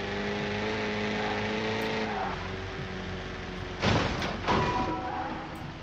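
Car drifting in the Car Simulator 2 mobile game, a sustained engine whine sliding down in pitch, followed by two bursts of tire squeal and thumps; no speech in this stretch.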